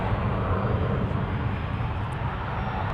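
A Delta heavy airliner at Minneapolis–Saint Paul airport roars on takeoff, its jet engines producing a steady, broadband rumble that holds loud and constant from start to finish.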